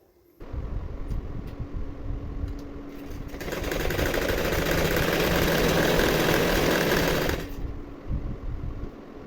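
A sewing machine stitches a straight seam on a lining blouse: a soft idle whir first, then a steady, louder stretch of fast running stitches for about four seconds before easing back down, close by.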